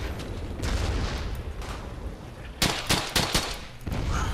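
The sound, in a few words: gunfire in video game Brothers in Arms: Hell's Highway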